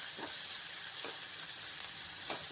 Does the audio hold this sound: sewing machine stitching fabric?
no